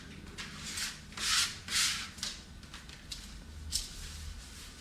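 A rag rubs filler into a wood floor in several close, scratchy swishing strokes, some louder bursts followed by quieter ones, with no voices.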